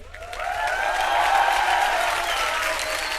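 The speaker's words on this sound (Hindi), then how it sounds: "जोरदार तालियां हो जाए" A studio audience on a TV comedy show breaks into loud, sustained applause that swells and holds steadily for a few seconds, with faint crowd murmur underneath.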